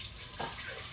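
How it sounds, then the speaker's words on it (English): Water poured into a pan of cornbread dressing in a home kitchen, a brief soft splashing trickle, faint and close with no talk. "So, I always put a little water in."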